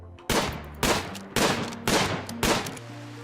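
Gunshots from a colonist firing a weapon in the video game RimWorld: five loud, sharp blasts spaced roughly half a second apart, each with a brief ringing tail, alone with no talk.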